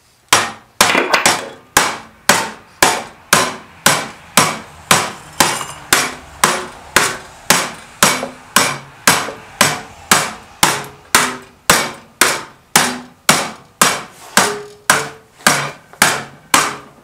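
Aluminium clamped to a table is bent with a hammer for a BM 250 motorcycle project, struck in a long series of loud, evenly spaced metallic blows about once per second, close by with no speech.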